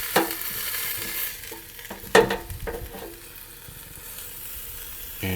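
Bread being toasted in an air fryer is turned over, giving a few sharp clattering knocks of the basket and tray against a steady fan whir and a faint sizzle, close up.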